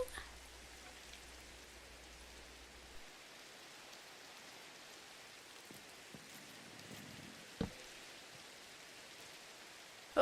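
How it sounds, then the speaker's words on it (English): Steady rain falls in the Minecraft game, a soft, even hiss of drops spread evenly across the stretch, faint and continuous with a few small isolated taps, no voice over it. "hopefully the rain stops soon"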